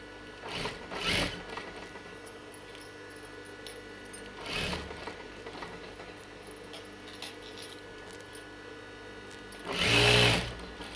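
A sewing machine stitches the neckline of a child's silk pattu pavadai blouse, running in short bursts near the start, middle and end, with a quiet background between runs.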